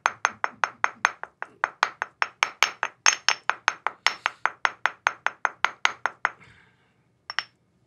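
Rapid, regular hammer blows on a hard surface, about thirty sharp metallic strikes in a row, then a pause and two final knocks.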